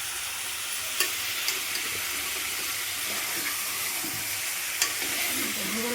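Tomatoes being stirred into chicken curry frying in a pan: a steady, loud sizzle fills the whole stretch, with a few sharp spoon scrapes and clinks against the pan rising over it, and no talking.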